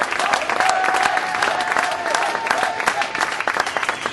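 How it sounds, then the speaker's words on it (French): Steady, full applause rolls through a bowling awards podium audience as the players are honoured. The clapping is loud and continuous, with faint voices mixed in. "Eh ouais, vous pouvez l'applaudir"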